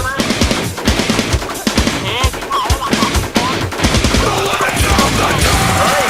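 Rapid automatic gunfire in the online zombie survival game Infestation, dense overlapping bursts and loud cracks filling the whole stretch, with faint game noise underneath.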